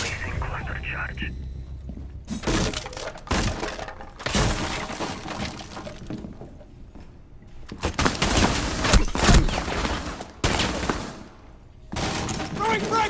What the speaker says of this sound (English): Placing cluster charge.